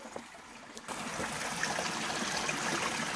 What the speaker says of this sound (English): I can hear running water, so the map was right